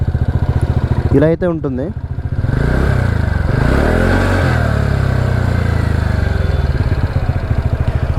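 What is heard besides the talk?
TVS Ntorq 125 scooter exhaust note, engine idling and revving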